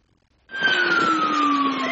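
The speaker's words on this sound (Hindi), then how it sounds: "ये लाल बत्ती, ये सायरन की आवाज आम आदमी की आंखों में खटकते हैं" Siren on an Indian VIP vehicle starts abruptly after a short silence, then sounds as a loud, steady wailing tone that slowly falls in pitch, close by, with no voices.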